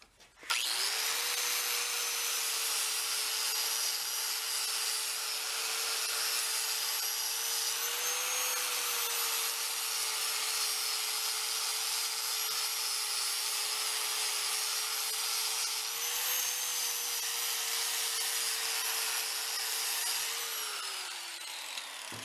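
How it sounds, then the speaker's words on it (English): A loud, continuous high-pitched whine of a power saw cutting through metal pipe for a half-scale dune buggy, holding a steady tone for about twenty seconds before winding down at the end. "Let's go cut that into two nice little pieces of pipe."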